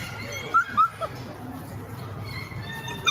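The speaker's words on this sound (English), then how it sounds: "We're surrounded by beagles." Beagles rescued from a breeding facility give a few sharp high yips and soft whimpers over a low murmur of background activity, close by and brief.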